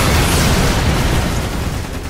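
A grenade detonates in the Lost Planet 2 multiplayer game, a loud, dense boom with a rumbling low-end tail that fills the whole two seconds.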